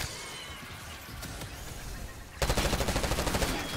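Video game gunfire opens up suddenly after a quieter stretch, a loud, close burst of rapid automatic shots in an even fast rhythm.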